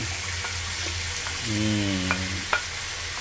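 Calamari sautéing in a pan with tomatoes gives a steady, close sizzle, with a brief louder hiss near the middle and a couple of sharp utensil taps toward the end, no voices.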